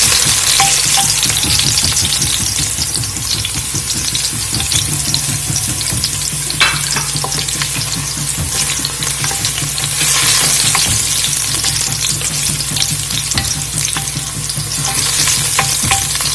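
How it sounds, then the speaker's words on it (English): Garlic cloves, thyme sprigs and a scallion stalk sauté in a hot pan with a loud, continuous close sizzle and crackle, plus occasional stirring scrapes and no voices. "I'm gonna add 2 cloves of garlic, 2 sprigs of thyme, and 1 stalk of scallion. I'm just gonna saute that."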